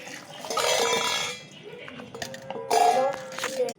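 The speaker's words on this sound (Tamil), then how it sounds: "நெக்ஸ்ட்டு தண்ணி ஒரு இந்த சொம்பில் நமக்கு ஊற்றிக்கிறேன்" Water is poured into a metal pot in a home kitchen, with a splashing pour followed by a few metallic clinks and a second louder pour burst.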